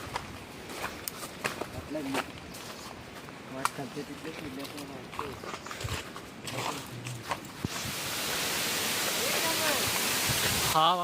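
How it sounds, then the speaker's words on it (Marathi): Footsteps and rustling move through forest near Tulshi fort, then a waterfall's steady hissing rush rises and fills the last few seconds, loud and continuous. "हा बघा धबधबा."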